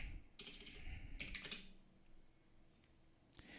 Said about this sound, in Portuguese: vou digitar lando start